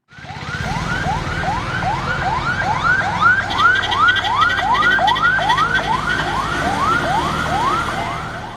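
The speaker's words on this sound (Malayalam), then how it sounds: "നിലവിളി ശബ്ദമിട്ട് ഇരുപത്തിനാല് മണിക്കൂറും ചീറിപ്പായുന്ന ആംബുലൻസുകളാണ്" Ambulance sirens wail continuously at a landslide disaster zone in Kalpetta and Meppadi, Kerala, a loud, close, rapidly rising-and-falling electronic yelp repeating steadily throughout with no voices.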